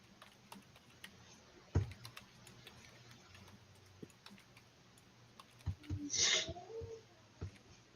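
Keyboard typing during a live stream, heard as faint, irregular soft clicks scattered through a quiet background, with a brief louder burst of noise near the end.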